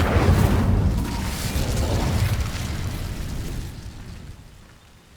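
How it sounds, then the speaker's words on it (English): Incendio fire spell from Hogwarts Legacy setting dry vines alight: a loud, close whooshing burst of flame that roars steadily, then dies away over about five seconds. "These dry vines are one spark away from becoming kindling. Incendio!"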